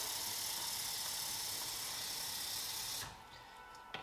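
Water runs steadily into the tank of a countertop reverse osmosis purifier, a constant hissing stream that stops abruptly near the end, leaving quiet room tone and a brief knock.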